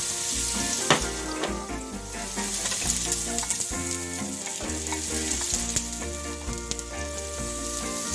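Sweet and white potatoes sizzle in olive oil in a preheated pan, a dense continuous frying crackle with utensil clinks and stirring knocks mixed in, close and fairly loud.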